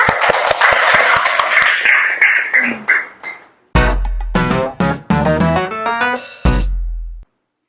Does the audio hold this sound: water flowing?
no